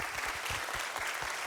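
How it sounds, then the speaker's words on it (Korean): A church congregation applauds during an evening service as gifts are presented, steady dense clapping filling the room at a constant level for the whole stretch. "우리 한 번 더 크게 박수해 주시기 바랍니다"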